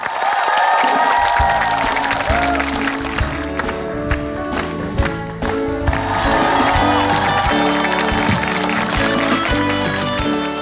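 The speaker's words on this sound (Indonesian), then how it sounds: "Tepuk tangan buat Poppy." Steady applause from a stand-up comedy audience over loud background music, continuous and even throughout.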